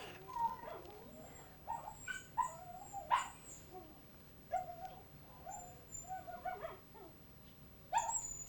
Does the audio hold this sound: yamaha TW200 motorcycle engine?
no